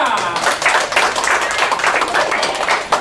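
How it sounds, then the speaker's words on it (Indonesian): An audience applauding Rama at a motivational character-management session held with PT. AXA Financial Indonesia, a loud, dense crowd clapping that continues steadily without pause. "Tepuk tangan untuk Rama."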